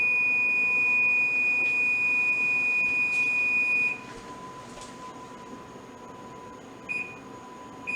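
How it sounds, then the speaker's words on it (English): A kitchen timer beeps with a steady, piercing tone for several seconds while pork chops finish baking in the oven, then cuts out, followed by a brief second chirp near the end. "My timer just went off"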